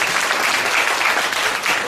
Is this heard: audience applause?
yes